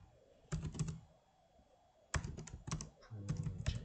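Typing code for a WebGL perspective-matrix lesson on a computer keyboard, in three close bursts of rapid key clicks separated by short pauses.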